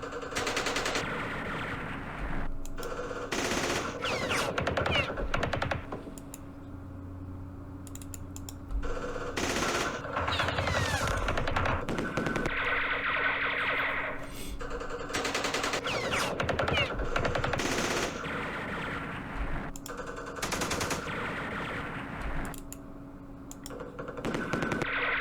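Machine gun fire from the Vietnam wargame Campaign Series Vietnam, Battle of Pleiku 1968: repeated rapid bursts of automatic gunfire with short gaps, fairly loud and steady across the stretch, with no talk over it.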